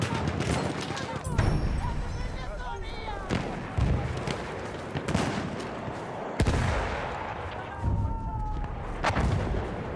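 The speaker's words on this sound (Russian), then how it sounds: "Вражеский пулемет! Вон там!" Enemy machine gun and artillery fire in a war video game, with sharp bursts and heavy booming blasts close by, rolling explosions and debris, and shouted voices in the background.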